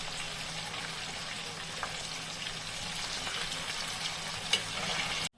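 Mushroom pieces deep fry in oil over a medium gas flame, giving a steady, fairly quiet bubbling sizzle with a light clink near the end before it cuts off.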